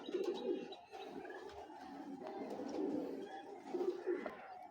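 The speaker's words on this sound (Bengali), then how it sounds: "এটা হলো মাদি কবুতর" A female racing pigeon coos close by in repeated soft, low throaty rolls, several calls in a row against a quiet background.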